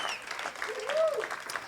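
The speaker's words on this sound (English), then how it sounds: "I'll take that applause." Audience applause rings out at a judge's campaign speech during an outdoor America 250 celebration, a steady wash of clapping with a voice briefly rising over it.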